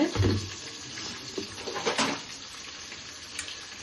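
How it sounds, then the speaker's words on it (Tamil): Two onions frying in a pan for a mutton biryani, a soft steady sizzle with a few stirring scrapes near the start, heard close and alone. "2 வெங்காயம் போட்டேன்னா நல்லா வாட்டினுட்டு"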